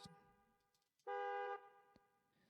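A bus horn sounding as a processed effect with added delay: one loud, steady, half-second honk stands out clearly, with fainter echoing repeats of the tone before and after it.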